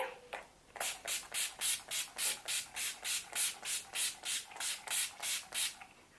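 About fifteen quick, evenly spaced hissing sprays from a nearby Urban Decay All Nighter makeup setting spray bottle, each a short airy burst in steady rhythm.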